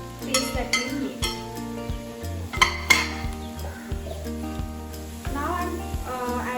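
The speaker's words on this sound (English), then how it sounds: "Now I am adding the ginger garlic, that paste that we made." Ginger garlic paste sizzles in a hot pan with roasting onions and onion paste, under a steady fry and clinks of a spoon against the pan, with background music underneath.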